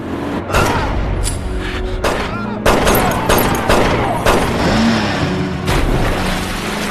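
Gunfire in a film shootout, with sharp shots cracking repeatedly over a dense, loud action soundtrack that also carries engine and impact noise, with no pause throughout.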